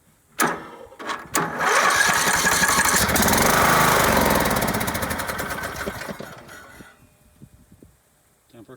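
Troy-Bilt lawn mower engine pulled to start after its air filter was reassembled and a little gasoline added; it catches with loud popping, runs roughly for a few seconds up close, then sputters and dies away.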